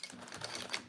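A sewing machine runs a stitch along the gusset of a bowler bag, a short, close mechanical whir lasting under a second with no voices.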